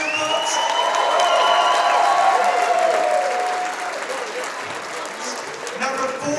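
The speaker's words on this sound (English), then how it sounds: "Give yourselves a round of applause here, folks." Round of applause from an audience at a charity auction for service dogs, a loud, full burst of clapping with some cheering that gradually tapers, heard under someone talking.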